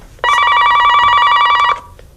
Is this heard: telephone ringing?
yes